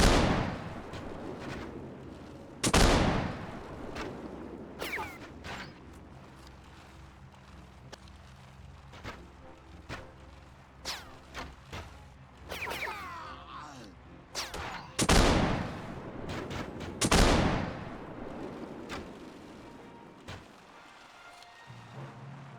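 Gunfire in the Warsword video game, a handful of loud, sharp blasts spaced several seconds apart with lighter shots and rumbling effects between them, while someone talks.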